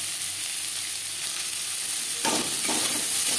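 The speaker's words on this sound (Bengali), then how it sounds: "পেঁয়াজ বেশ ভালো করে মিক্স করে দেব।" Onions and slit green chilies sizzle steadily in a little oil, with a louder burst of frying and stirring scrapes near the end, close and continuous with no talking.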